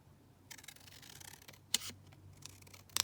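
Scissors snip through a paper label for a junk journal page, giving a few close, crisp cuts and rustles, with a quick run of sharp snips at the very end.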